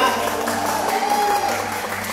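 An audience at a concert venue in California claps in a short burst of applause, dense and fairly loud, while a voice or music carries on over it.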